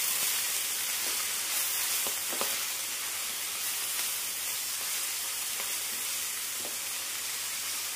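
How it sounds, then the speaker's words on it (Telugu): Chopped spinach with a pinch of turmeric frying in oil in a pan, a steady soft sizzle and hiss with a few faint stirring scrapes, no talking. "ఒక్క నిమిషం ఇలా ఈ నూనెలో వేపుకోవాలి పాలకూరని."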